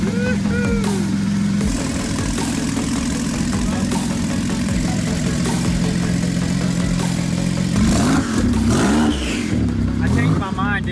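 A Porsche 911 Turbo with open exhaust idles loudly up close, with a deep steady drone broken by several sharp revs rising and falling, while people talk over it.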